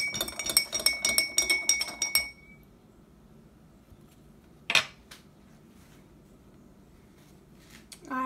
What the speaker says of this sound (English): Mix the sugar again just to make sure that it's well incorporated